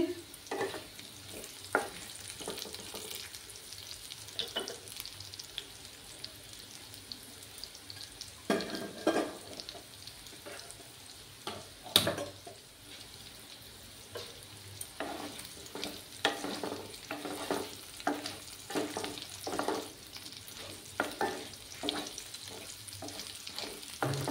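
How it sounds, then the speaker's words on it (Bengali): Potatoes fry in a pan in steady sizzling oil, with scraping stirring strokes and occasional clanks against the pan recurring throughout, close and moderately loud with no talk. "আমার আলুগুলো ফ্রাই করতে থাক"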